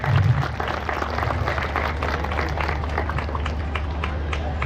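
An audience claps for a Tamil folk dance troupe at a temple festival, giving a steady, dense patter of applause held at an even level throughout, with no break.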